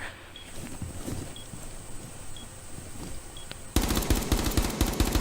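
Rapid automatic gunfire in Rainbow Six Siege bursts in loud and close near the end, after a quieter stretch of scattered faint game noises.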